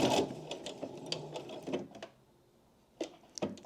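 A sewing machine runs a diagonal line of stitches across the middle of a fabric car tissue holder, a quick rattling burst of stitching that halts, then gives a few short clicks.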